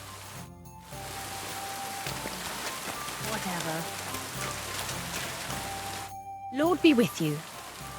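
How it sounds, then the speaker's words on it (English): Rain falling in the video game Kingdom Come Deliverance 2, a soft, steady patter heard throughout behind brief in-game character dialogue, with faint ambient tones and short gaps of near silence. "Oh, rain."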